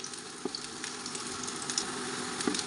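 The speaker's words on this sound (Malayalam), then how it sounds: "നെല്ലിക്ക നല്ല രീതിയിൽ ഒന്ന് കുക്കായി വരുന്നത് വരെ എണ്ണയിലൊന്ന് ചൂടാക്കിയെടുക്കാം" Gooseberries fry in hot oil with a steady, soft sizzle and crackle, small pops scattered throughout, close and continuous with no talking.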